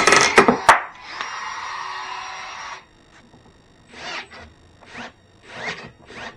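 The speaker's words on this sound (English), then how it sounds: "This is our Ryobi pruning pole saw cutting a 1-inch red oak dowel." Ryobi pruning pole saw cutting through a 1-inch red oak dowel: a few sharp woody snaps and a rough two-second cutting rasp at the start, followed by several brief scraping bursts, close up with no talk.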